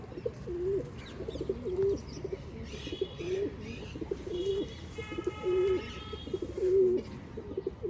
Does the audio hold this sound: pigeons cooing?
yes